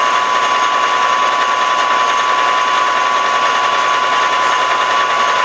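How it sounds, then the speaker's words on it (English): A steady, loud mechanical whine with a constant high tone drones on without pause: a lathe drilling into metal up close, the bit held still while the work spins. "when you're drilling with a lathe, obviously the bit doesn't turn."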